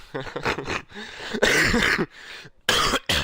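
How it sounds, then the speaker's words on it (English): Several harsh coughs in quick bursts, close and loud, with short pauses between them and a bit of throat clearing. "My cough is horrible still."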